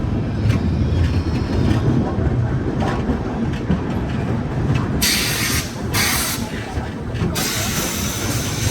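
The Chennai Bilaspur Superfast Express rumbles loudly and steadily at a station, with continuous close rail noise and bursts of hissing near the end; no clear speech.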